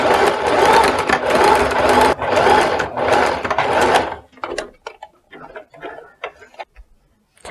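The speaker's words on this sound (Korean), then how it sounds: "다시 또 박아줍니다" Sewing machine stitching pin tucks on a blouse, running steadily in several loud bursts for about four seconds, then stopping and giving way to scattered light clicks and handling noises.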